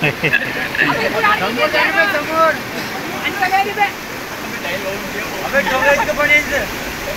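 Floodwater rushes loudly and steadily in a fierce flood, a dense roar close by with voices speaking underneath throughout.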